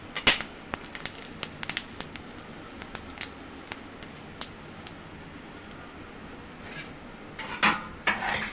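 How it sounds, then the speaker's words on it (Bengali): Dried red chillies, cumin seeds and whole garam masala stirred in a pan for doi katla, a spoon scraping and clinking against the metal in scattered light taps, with a busier cluster of clatter near the end. "একে একে আমি শুকনো লঙ্কা, জিরে, গোটা গরম মশলা দিয়ে ভালো করে নাড়িয়ে নিলাম"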